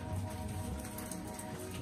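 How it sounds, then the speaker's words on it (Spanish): Steady rain falling outside a home, a dense continuous patter with no gaps, moderately loud and heard alone without voices. "Y pues miren la lluvia. Está lloviendo."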